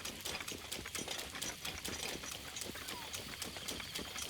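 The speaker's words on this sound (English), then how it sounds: "And now we have the giant horse, Bowser." Giant horse in the video game The Legend of Zelda: Breath of the Wild, its hooves clip-clopping in a quick steady rhythm, moderately loud under a person talking.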